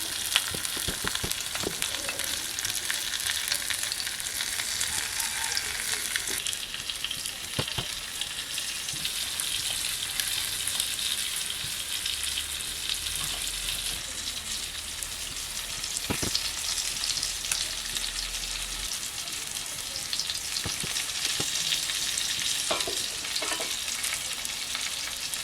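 Pieces of mahseer fish fry in hot oil in a home kitchen, a dense, steady sizzle and crackle throughout with occasional scraping of a utensil stirring the pan, close and unbroken.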